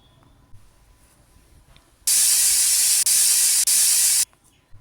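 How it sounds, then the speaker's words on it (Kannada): A pressure cooker whistle erupts in a loud, sharp hiss of steam while cooking legumes, lasting a couple of seconds with two tiny breaks, then stops. "ಲಿಟ್ ಕ್ಲೋಸ್ ಮಾಡಿ ಮೂರು ವಿಷಲು ಕೂಗಿಸ್ಕೊಳ್ಳೋಣ"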